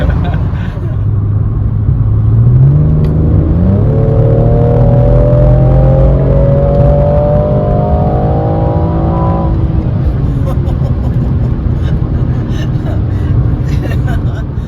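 A turbocharged car engine drives close by, its pitch climbing as it accelerates, then holding a steady drone, with a voice speaking briefly over it.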